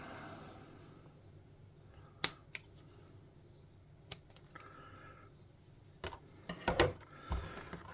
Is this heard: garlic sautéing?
no